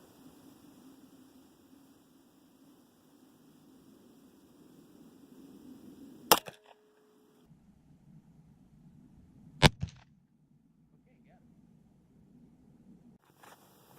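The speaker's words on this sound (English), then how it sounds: "So now we're going to shoot the 3-inch piece of circular wood" Gunshots at a 3-inch circular wood target at an outdoor range, from a session with an FN FNP 9 pistol, a Remington 870 and an SKS: two loud sharp reports a few seconds apart over steady background hiss.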